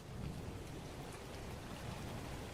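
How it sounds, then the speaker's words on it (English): Steady rain and thunderstorm ambience with a crackly, white-noise texture plays as a continuous, fairly loud background bed with no voices. "Just like rainy, thunderstorm, crackly ambiance is the other option."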